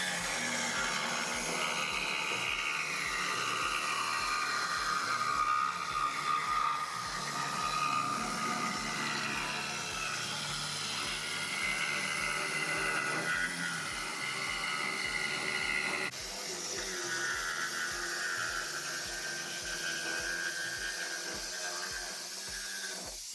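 Power tool trimming the lower plywood edge all the way around a wooden stand-up paddle board, a steady high whining cut that runs continuously and loud throughout, with a brief change in tone partway through.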